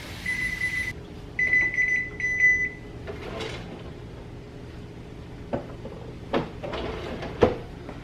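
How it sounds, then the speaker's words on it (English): An oven timer beeps in a series of short, bright electronic tones for a batch of baked vegan quiches, the beeps coming in a few close groups before quieter kitchen clatter and knocks take over. "that is my quiches beeping in the oven"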